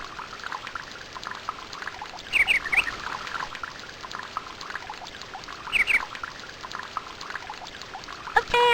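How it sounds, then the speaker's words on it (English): Flowing river water in the PC game Once Upon a Forest, a steady broadband rush running continuously throughout, with a few brief chirpy bird-like calls and a faint chime over the top. "If we clear that stuff out of the river, the water will flow freely again."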